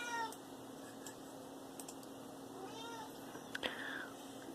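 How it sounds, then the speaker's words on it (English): A house cat meows a few times in the background, faint and brief calls over a quiet room with a steady electrical hum. "We got a cat going around."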